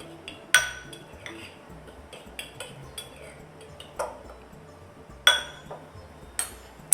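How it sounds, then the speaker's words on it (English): A fork clinks against a bowl while mixing dal flour with liquid to keep lumps from forming, giving soft scraping and several sharp taps spaced irregularly, close and moderately loud. "you should use a fork to mix them together, because otherwise they form lumps"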